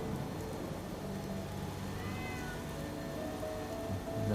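A cat meows at a castle gatehouse, faint, drawn-out cries rising over a constant patter like rain.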